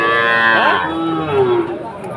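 A calf moos loudly and close by at a busy weekly village cattle market, one long drawn-out bellow that bends in pitch over a steady background murmur of the crowd.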